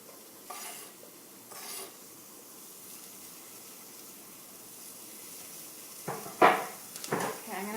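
Coconut curry stirred in a pan with no oil: a few soft scraping strokes early on, a long quiet stretch, then louder, closer scrapes and clatters near the end.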